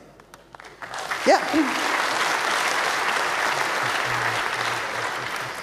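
An audience at the 28c3 hacker conference breaks into sustained, steady applause for hackerspace lab coats, starting after a brief spoken word and holding loud and even until the end.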